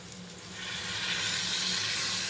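Water hits a hot pan of mocha curry, a banana-flower dish, and a steady, loud sizzle builds and holds, dense hissing steam throughout with no voices.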